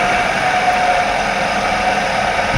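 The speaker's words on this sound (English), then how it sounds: "we have it, start it up" A car engine idles with a steady, even hum and a low rumble, running close by after being started, with the oil cap just put back on.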